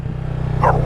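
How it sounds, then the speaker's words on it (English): A dog gives a single short bark near the end, heard over the steady drone of a motorbike engine on a storm-damaged road in Jamaica after Hurricane Beryl. "That's a dog, yeah."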